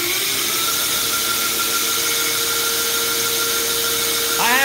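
A belt grinder fitted with a 120 grit belt runs steadily at speed, a loud continuous whine with a sustained tone, with a brief rising change right at the end.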